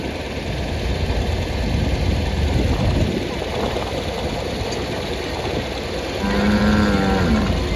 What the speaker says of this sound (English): cow vocalization. He's excited.